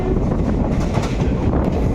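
A passenger train on the Tirupati to Kadiri line rumbles along at speed, a steady low roar with faint rhythmic clatter and some wind buffeting, no talking.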